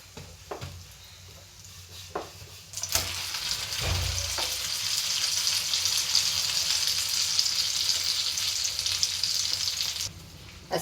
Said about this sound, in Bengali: এখন আমি একটু তেল দিয়ে দেবো